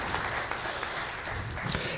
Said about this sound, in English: if you'll give him a round of applause